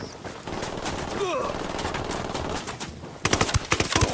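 Bursts of automatic gunfire in Ghost Recon Wildlands, with rapid chattering shots rising loud near the end and a voice speaking over the fighting.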